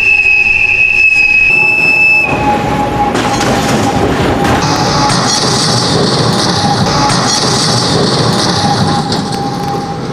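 A train rolling along the rails, loud and close, with high-pitched wheel squeals and a steady rumbling clatter that builds.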